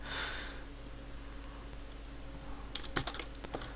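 Quiet typing on a computer keyboard while entering code, with sparse scattered keystrokes that pick up into a quick cluster of clicks near the end.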